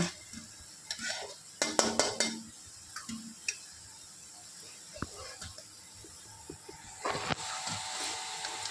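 Onions for chicken biryani fry into golden beresta in hot oil, with a soft continuous sizzle broken by scattered scraping stirs and light utensil clinks against the pan, close by.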